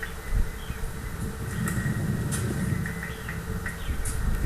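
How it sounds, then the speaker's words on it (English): A legged robot's motors strain and creak as a leg shortens while it turns, a continuous buzzing whine steady throughout and mixed with heavy outdoor wind noise. "That creaking sound is actually the motor going up and down as it turns,"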